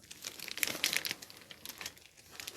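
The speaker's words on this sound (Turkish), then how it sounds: "Ben torba yardımıyla dolduruyorum." Cupcake batter is piped from a plastic bag into moulds, giving close, soft crinkling and rustling of the bag in short irregular bursts.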